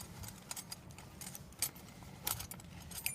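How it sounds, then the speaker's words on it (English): Metal tools clinking and jangling as a 24mm wrench is picked up from the parts of a Sport Kart scooter kit, brief bright metallic taps close by. "You'll want to grab"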